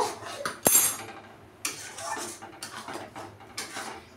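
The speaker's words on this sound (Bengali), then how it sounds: "দিয়ে আমি ভালো করে মশলাটা কষিয়ে একদম রেডি করব" Spoon scraping and clinking in a pan as masala with chopped cashews is stirred and fried for a prawn-stuffed potol dolma, with a sharp metallic clank early and repeated scraping strokes, close and alone.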